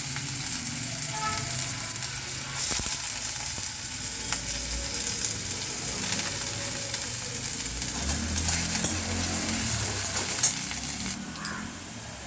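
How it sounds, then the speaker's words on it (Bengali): Potatoes and onions fry in hot oil in a wok, with a continuous loud sizzle broken by occasional scrapes and stirring knocks. "কড়াইয়ে তেল গরম করে আলু আর পেঁয়াজটাকে ভালোভাবে ভেজে নেবো"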